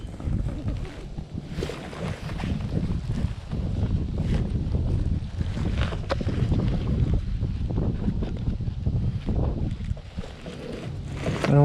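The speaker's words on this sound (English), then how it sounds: "It's getting kind of windy." Wind gusting over the Ogeechee River in Savannah, Georgia while fishing from a boat, a steady rough rumble of wind buffeting the microphone that carries on throughout.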